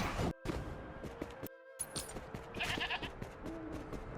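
Sheep in the video game Wuthering Waves giving a few short, close bleats mixed with clicks and game effects, broken by brief silent gaps.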